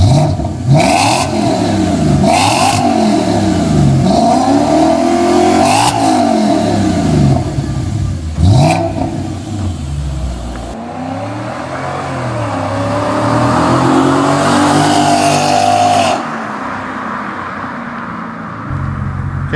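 Modified B6 Audi S4 with a 4.2 V8, straight downpipes, X-pipe, resonators and custom mufflers, revving repeatedly in loud, close bursts that rise and fall, with a steady idle between pulls.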